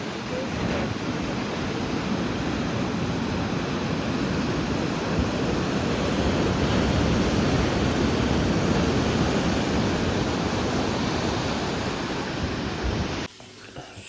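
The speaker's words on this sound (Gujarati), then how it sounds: "ચલો હવે આપણે મોજાની ફીલ લઈએ," Sea waves surging at Shivrajpur Beach make a steady, broad roar of surf that holds loud and constant for about thirteen seconds before cutting off abruptly near the end.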